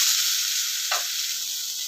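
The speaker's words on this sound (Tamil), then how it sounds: "ஸ்டவ் மீடியம் ஃப்ளேமில் வச்சுட்டு கலர் மாறாமல் வறுத்து எடுத்துங்க" Grated coconut, about a cup, dry-roasting in a pan over a medium flame gives a steady soft sizzle with one brief scraping stir in the middle, close and continuous, with no voices.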